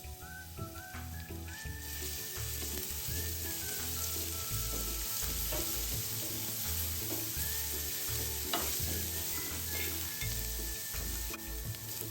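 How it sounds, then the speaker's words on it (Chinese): Minced garlic frying in about a tablespoon of cooking oil in a wok while glass noodles are stir-fried. A steady, close sizzle carries on throughout, with occasional stirring scrapes and faint background music. "倒入约1大匙食用油，1大匙蒜末倒入爆香"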